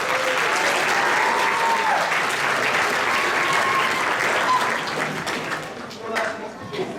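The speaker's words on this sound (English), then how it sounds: "So let's just give a wave and a round of applause." An audience at a fifth-grade school concert applauds loudly and steadily for several seconds, the clapping thinning slightly toward the end.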